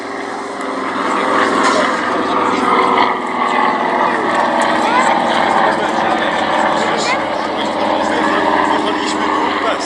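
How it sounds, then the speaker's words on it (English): A camouflaged 1941 de Havilland Dragon Rapide biplane flies at the Duxford VE Day air show, its piston engines droning steadily and fairly loud overhead, with crowd murmur beneath. "this Dragon Rapide is camouflaged, and this very aeroplane played its own wartime role"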